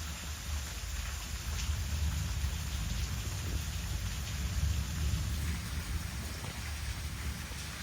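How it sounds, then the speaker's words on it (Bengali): Steady rain falling outside a home, a continuous broad hiss with a low rumbling undertone that swells slightly midway, with no voices. "এখন হচ্ছে বাইরে বৃষ্টি পড়তেছে"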